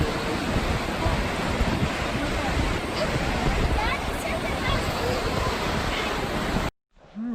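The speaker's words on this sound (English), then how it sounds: "water was just pouring over this dam" Spring water pours over a dam in a steady, dense roar that fills the whole scene, loud and unbroken, until it cuts off abruptly near the end.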